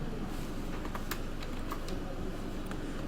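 Fast, steady typing on a computer keyboard while writing a C++ program, with close, continuous key clicks over a constant background hiss and no voices.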